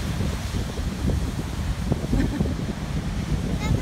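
Stormy Pacific Ocean surf and strong wind roar on a cold shore, with a steady close rush of gusts buffeting the microphone and waves breaking underneath.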